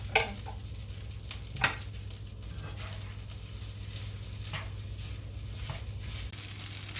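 Fried rice sizzles in a hot pan as egg goes in, with a steady close frying hiss broken by scrapes and light taps of a spatula and no talk.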